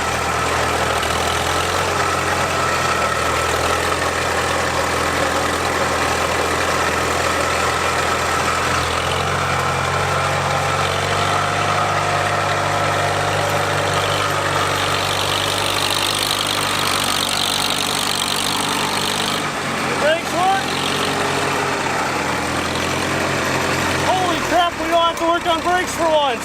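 An old tractor engine, abandoned for 20 years, runs steadily at a close, loud idle with a constant low rumble, while people talk and shuffle near the end.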